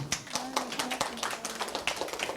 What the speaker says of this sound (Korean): 자, 박수 한번 해주세요